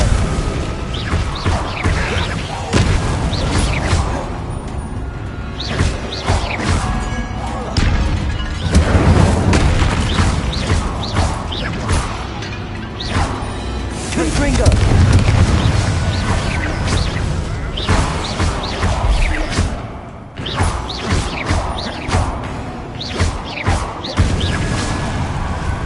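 Confringo spell blasts go off repeatedly in Hogwarts Legacy combat, heavy booms and crashes thundering over game music with occasional voices.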